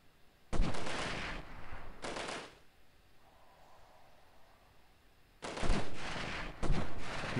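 Grenade launcher fire in the Delta Force video game on a snowy Novaya Zemlya mission, loud broadband blasts in two bursts separated by a quieter lull with low rumble, no voices.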